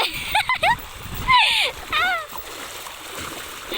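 Water splashes in bursts as a child swims and jumps in with a parent, close and lively, with voices and shrieks between the splashes.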